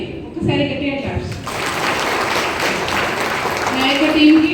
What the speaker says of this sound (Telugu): ఒకసారి గట్టిగా క్లాప్స్